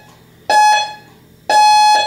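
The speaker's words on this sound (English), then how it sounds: "When that thing beeps, you're gonna go" Two loud electronic beeps from a workout timer, each lasting about half a second, spaced roughly a second apart in an otherwise quiet room.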